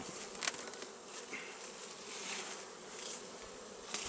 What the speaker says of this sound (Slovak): A ideme sa teda presvedčiť, ako to vyzerá v tomto včelstve.